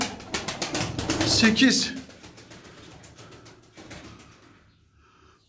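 Arab pigeons, a breeding pair, cooing and shuffling in a loft, with soft wing and body noises under someone talking close by, a louder burst near the start that fades to quiet by the end.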